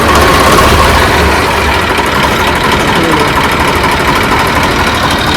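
A Swaraj 735 tractor engine runs steadily at idle nearby, a loud, continuous low rumble with a rough knocking texture and no break.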